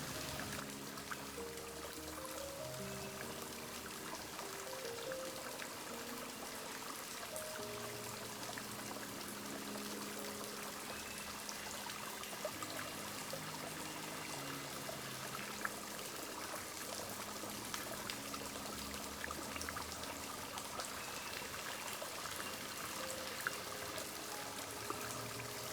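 Water pours and trickles steadily in front of Chateau de Chaumont, a constant close splashing stream with no pauses. A faint musical tone sits quietly underneath, and no one speaks.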